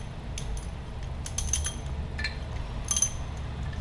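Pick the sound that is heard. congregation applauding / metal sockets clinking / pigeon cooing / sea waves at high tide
metal sockets clinking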